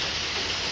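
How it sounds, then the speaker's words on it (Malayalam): Heavy, steady rain pours down in an unbroken, dense hiss with no pauses, filling the short clip without any voices over it. "ഒടുക്കത്തെ മഴ"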